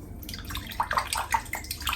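A vintage Henckels straight razor blade dipped into shaving water, giving brief splashy, sloshing water sounds with a few small drips and swishes, close and fairly quiet, with no talking.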